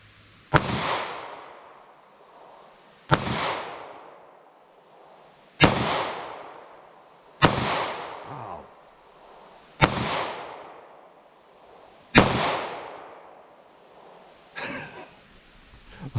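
Gunshots from a revolver firing lead semi-wadcutter rounds outdoors, seven sharp loud reports spaced a couple of seconds apart, each with a decaying echo, the last one quieter.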